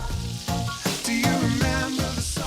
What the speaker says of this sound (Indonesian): Kita masukin cumi yang udah digoreng tadi. Diaduk-aduk sampai semua bumbu tercampur merata.